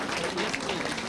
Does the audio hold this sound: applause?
yes